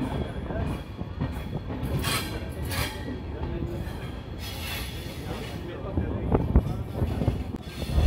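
Electric-traction Jaipur–Udaipur intercity train running on the line near Ajmer: a steady rumble of wheels and carriages with rhythmic clatter and some squealing, heard from inside the moving train with voices talking in the background.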